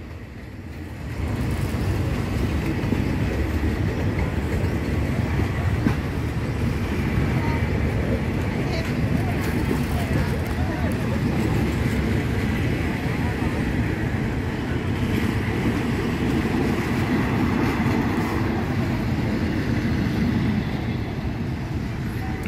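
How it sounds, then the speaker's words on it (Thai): A diesel railcar train rolls past on the rails outdoors, a steady broad rumble and rushing roar that holds loud for the whole stretch with wind buffeting the microphone. "หลังจากที่ขบวน135ผ่านไปนะครับ"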